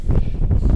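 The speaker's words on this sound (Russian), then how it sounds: "Ветер." Wind gusts across a snowy taiga forest in a blizzard, a steady low roaring rush with rolling surges and buffeting on the microphone, close and continuous, with no voices.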